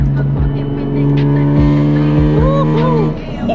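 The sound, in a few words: car exhaust with valves opened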